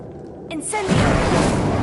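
Incendio fire spell going off in Hogwarts Legacy, a rising whoosh that swells into a loud sustained roaring blast for over a second, following quieter game ambience.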